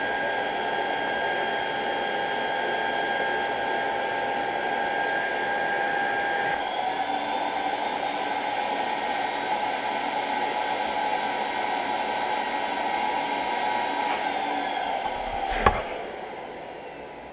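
An old GE Roll-Easy vacuum cleaner, exhaust venting from the side, drones loudly and steadily with a whining motor tone, then clicks off and begins to wind down at the end.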